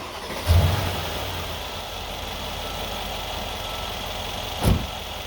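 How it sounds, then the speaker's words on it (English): A 2013 Mercedes SL550 engine cranking and catching with a brief low burst, then settling into a steady, smooth idle, with a second short rev-like surge near the end; no talking. "Now we motor her up and we let her idle for 15 minutes"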